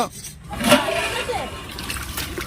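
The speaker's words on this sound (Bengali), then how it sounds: "ভাতের জল বসানো হলো" Water poured into a pot to boil rice, a close gush and trickle that swells then settles into a steady running flow, with a voice talking over it.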